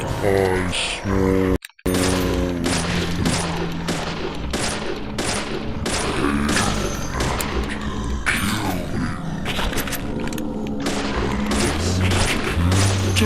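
Rapid SMG bursts firing in the survival horror game Deadly Premonition, loud and close, with dense repeated shots running almost continuously and a brief gap near the start.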